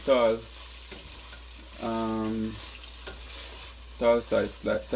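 Carrot slices fry in a pan for Caribbean curry crab in coconut milk, giving a steady, close sizzle under stretches of a voice.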